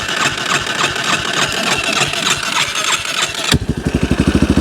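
A small engine on a project machine is cranked with a little throttle, a dense revving roar that drops into a steady, chugging idle with clearly spaced pulses, loud and close.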